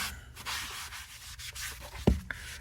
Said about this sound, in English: Kind of scrubbing it off.